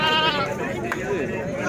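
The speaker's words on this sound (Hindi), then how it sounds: "ये जी माशाल्लाह एक बकरी है जी" A goat, a recently kidded doe, bleats at a livestock sale while someone talks over it, the wavering call rising and falling close to the microphone.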